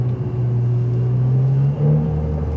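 A Ferrari driving by on the street, heard as a loud, close, steady low engine drone that rises in pitch near the end, with no talk.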